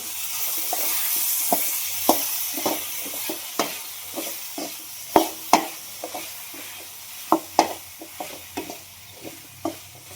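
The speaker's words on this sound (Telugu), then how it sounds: "బాగా మగ్గిపోయేంత వరకు వేయించుకుందాం" Brinjal pieces fry in a pan under a steady, close sizzle, punctuated by sharp irregular spatula scrapes and taps as they are stirred.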